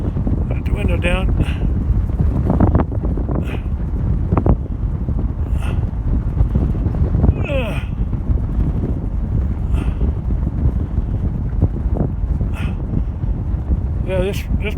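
Steady wind buffets through an open window of a moving car on a farm road, a loud broadband rush filling the whole stretch, with brief voices cutting in now and then.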